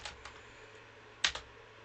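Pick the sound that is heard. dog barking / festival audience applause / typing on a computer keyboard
typing on a computer keyboard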